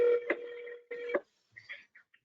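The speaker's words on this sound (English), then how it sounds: "Somebody's phone is ringing." A phone rings during an investor summit event, two short warbling electronic ring bursts followed by a few fainter chirps, thin and somewhat distant.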